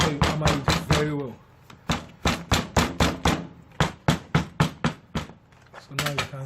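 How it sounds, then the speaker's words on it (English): Someone hammers a homemade palm slipper with a quick run of sharp, close knocks. Many of the blows come in a steady rhythm, and a person talks in between the bursts of strikes. "make sure you hammer it very well."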